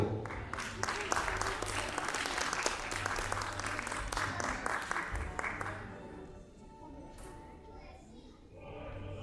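At a children's poetry recitation contest, an audience gives a burst of applause that fades after about six seconds, leaving quieter room noise and some children's voices.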